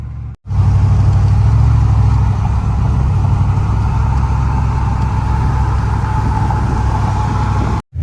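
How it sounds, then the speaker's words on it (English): A supercharged Chevrolet Silverado pickup's V8 with a ProCharger blower roars loudly and steadily under sustained revving, a close, dense engine drone that holds nearly unchanged for about seven seconds between abrupt cuts. "The more I rev it, the more it pulls."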